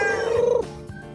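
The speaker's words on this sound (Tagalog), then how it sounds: "Yan, ang dami nilang gansa, oh." A goose on a farm gives a single brief, nasal honking call nearby, about half a second long, followed by quieter background noise.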